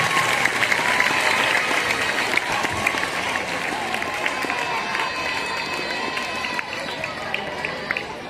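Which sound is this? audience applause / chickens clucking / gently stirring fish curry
audience applause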